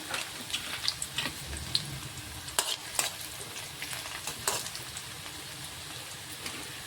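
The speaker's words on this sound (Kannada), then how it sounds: "ಜಜ್ಜಿಟ್ಟಿರುವಂಥ ಬೆಳ್ಳುಳ್ಳಿ ಗ್ಯಾಸ ಸ್ವಲ್ಪ ಸಣ್ಣ ಇಟ್ಟೆ ಫ್ರೈ ಮಾಡ್ಕೋಬೇಕಾಗ್ತದ್ರಿ" Crushed garlic fries gently over a low gas flame, a soft crackling sizzle punctuated by several distinct spoon scrapes and knocks against the pan, fairly quiet and without speech.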